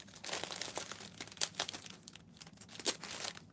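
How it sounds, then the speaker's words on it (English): Gift wrapping paper is crinkled and torn open by hand, with close, uneven bursts of crackling and ripping that come in short irregular clusters with brief pauses between them. "let me get this open so I can stop crinkling it"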